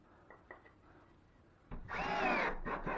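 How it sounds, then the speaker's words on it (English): A power drill drives screws through wood backing into a stud while patching a drywall plumbing access hole; a loud whirring burst starts partway in after quieter faint knocks, close and without talk. "Put screws on your outside existing stud."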